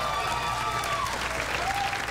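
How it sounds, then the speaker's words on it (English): Dense applause from a comedy club audience at a stand-up show, steady and full throughout without a pause, a roomful of people clapping together in response to the comedian. "Clap if you voted for Obama."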